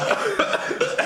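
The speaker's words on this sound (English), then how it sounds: "He's coughing." A person coughs in a quick burst of several harsh, close coughs, alone with no talk.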